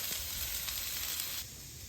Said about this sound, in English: While my potatoes are frying